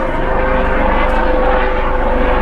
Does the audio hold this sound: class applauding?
no